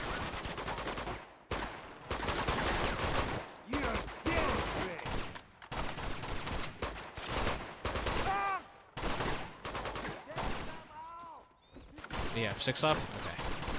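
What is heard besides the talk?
grenade launcher fire in Uncharted 2 video game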